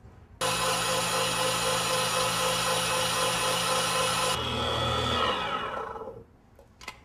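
Breville Mix Pro aluminium stand mixer with a 4.7 L bowl whipping egg whites, a loud steady motor whir holding for several seconds, then dropping in pitch and winding down to quiet.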